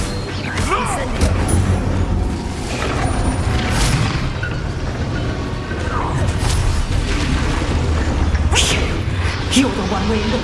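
Incendio fire spells blast in Hogwarts Legacy combat, with booming bursts and crackling hits layered in a loud, continuous battle din while a voice speaks intermittently.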